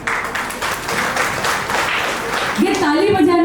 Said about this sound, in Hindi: ये ताली बजाने की बात नहीं है